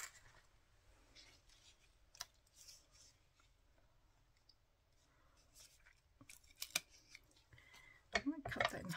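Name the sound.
cutting card in half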